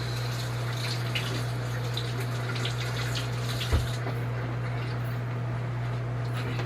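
Tap water runs steadily into a kitchen sink as hands are rinsed, a constant close splashing stream over a low electrical hum, with one brief bump.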